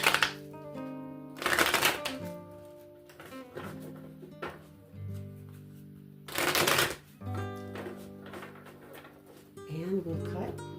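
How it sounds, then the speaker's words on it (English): A deck of tarot cards is shuffled again and again at close range, crisp riffling bursts with sharp flutters and taps between them, over a steady sustained musical backdrop. "A couple more shuffles here."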